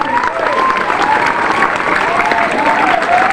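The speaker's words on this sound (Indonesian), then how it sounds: "Untuk itu kita berikan aplaus dulu yang meriah." Students and teachers at a junior high school flag ceremony in Pangkalan Kerinci give class 9D a round of applause: dense, lively clapping from a large crowd, close and loud, holding steady for a few seconds.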